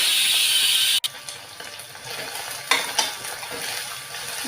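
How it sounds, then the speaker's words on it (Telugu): Sliced onions fry in hot oil in a pan, cooking until brown for a brinjal curry; a loud, steady sizzle is interrupted by a brief stir, followed by scraping and stirring noises at close range. "ఉల్లిపాయలు బాగా వేగాలి బ్రౌన్ కలర్ వచ్చినంత వరకు వేగనిద్దాం"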